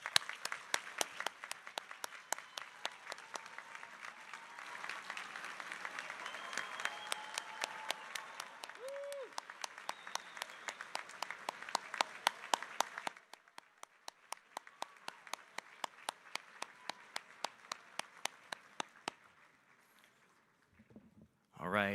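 A commencement crowd rises to applaud Goldey-Beacom College graduates, sounding as faint, distant clapping that comes mostly in steady rhythmic claps and thins out near the end.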